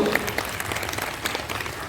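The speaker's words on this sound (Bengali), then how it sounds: "আজকের এই সুন্দর অনেক সুন্দর মুহূর্ত একবার জোরে করতালিতে অভিনন্দিত" Audience applause at a stage event, a dense, steady wash of clapping from a crowd heard throughout, with faint voices mixed underneath.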